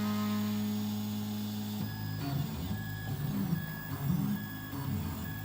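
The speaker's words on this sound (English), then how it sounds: "nozzle is going to check whether the print bed is level" A 3D printer runs bed-level calibration, its stepper motors humming in tones that shift from a steady whine into rhythmic, pitched movements and short beeping squeals as the nozzle probes the print bed, nearby and moderately loud.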